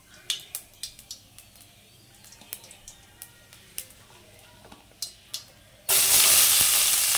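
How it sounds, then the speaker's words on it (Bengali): A spoon taps and clinks against a pan several times, then cumin seeds hit hot mustard oil and a loud, sudden sizzle takes over close by. "তো তেলটা গরম হয়ে গেছে আমার, এখানে আমি সামান্য গোটা জিরে দিয়ে দিলাম ফোড়ন হিসেবে"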